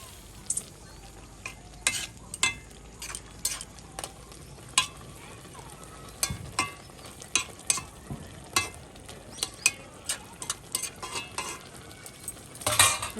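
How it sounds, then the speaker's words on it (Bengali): Fish stirred into taro stems in a hot pan, with a steady sizzle and frying hiss under repeated sharp clinks and scrapes of a spatula against metal. "তো কচুর ডাঁটার মধ্যে মাছ দিয়ে দিচ্ছি।"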